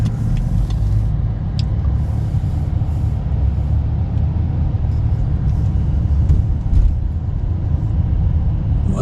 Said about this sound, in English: Just drive across the bridge waiting for these people to cross first.